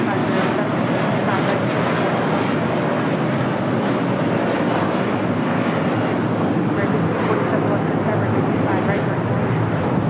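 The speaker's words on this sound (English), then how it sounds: "This is United Airlines 2373 taking off to Kailua Kona on a 757-300." United Airlines Boeing 757-300 jet taking off at LAX, a steady loud broadband engine roar holding for the whole stretch, with voices talking over it.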